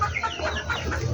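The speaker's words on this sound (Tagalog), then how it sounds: "Masaya-masaya na naman mga ibon natin." Pet chickens clucking close by, a steady run of short overlapping clucks from several birds kept together, with no talking.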